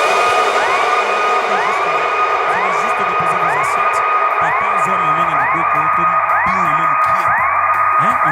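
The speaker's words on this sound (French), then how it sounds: "Est-ce qu'on peut applaudir très fort pour Benvino?" Wedding guests at an emotional African wedding cheer and whoop loudly and without a break, a dense crowd roar holding steady throughout with rising shouts repeating every second or so.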